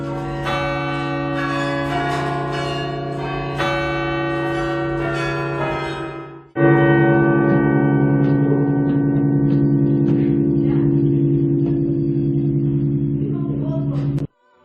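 A basilica's carillon of 49 bells rings steadily in a dense, resonant peal, many tones overlapping; a brief dip midway, then the ringing resumes loud and sustained until it cuts off.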